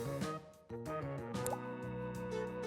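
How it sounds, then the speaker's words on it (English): Drops of melted lipstick fall onto water in a home science experiment, giving a quick series of clear, close liquid plops and drips in a quiet setting. "Melt some lipstick, and the drops on water make flowers."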